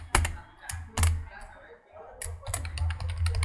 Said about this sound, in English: I type it header over here.